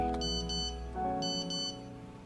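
A phone plays a text message notification, two bright bursts of rapid high electronic tones over a sustained musical bed, each burst short and crisp, with no talking.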